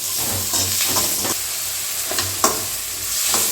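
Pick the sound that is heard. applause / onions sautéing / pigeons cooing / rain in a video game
onions sautéing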